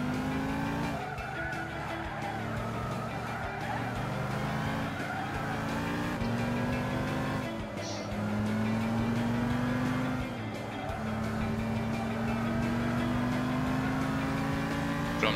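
Race car in Gran Turismo 6 driving continuously with a steady engine drone, rising and falling through gear changes, and tires squealing and skidding through corners.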